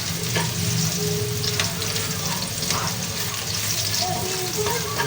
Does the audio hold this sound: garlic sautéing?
yes